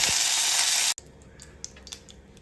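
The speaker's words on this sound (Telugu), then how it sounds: "వేడెక్కిన నూనెలో కొద్దిగా కరివేపాకు వేయాలి." Curry leaves dropped into hot oil in a frying pan give a loud, close burst of hissing sizzle that cuts off abruptly, followed by quieter crackles and light clinks.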